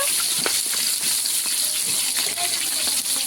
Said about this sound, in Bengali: বড়দি তো কড়াইতে মাছ ভাজা শুরু হয়ে গেছে